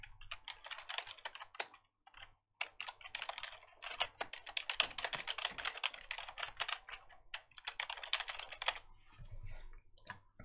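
An email address and password are typed on a computer keyboard in rapid, uneven bursts of close key clicks with a brief pause early on.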